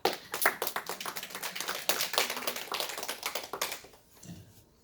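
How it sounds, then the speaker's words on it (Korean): Applause from a church congregation, a dense, steady patter of many hands clapping for several seconds before it fades out, with no talking over it. "박수하겠습니다."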